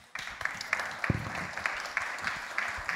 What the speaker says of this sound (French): Pas facile d'être le premier, on peut l'applaudir.